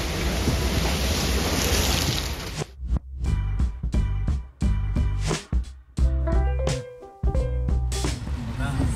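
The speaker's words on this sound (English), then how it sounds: "This is how bad it's raining here." Heavy rain pours down in the hills with a loud, dense, steady rush for a couple of seconds, followed by choppy voices and other sounds.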